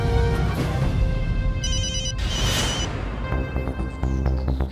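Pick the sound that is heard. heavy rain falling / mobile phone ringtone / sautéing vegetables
mobile phone ringtone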